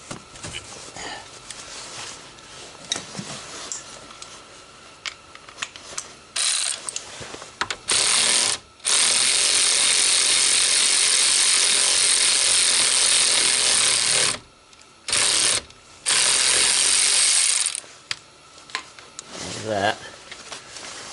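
Work on the tie rod end nut of a 2005 Honda Accord comes through as loud bursts of mechanical rattling and whirring, broken by short pauses, with clicks and scattered tool handling in between.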